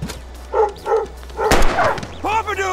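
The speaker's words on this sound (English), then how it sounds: "Frank's dog then runs out of the RV and toward Chloe" Dog barks from the video game Life is Strange: a few short, clear barks in a tense scene, set against raised voices of people arguing nearby.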